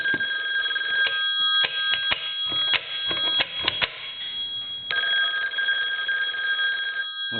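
A Western Electric 2500 desk telephone bell keeps ringing loud and near with the handset lifted, its steady metallic jangle broken by sharp clicks and clatters of handling.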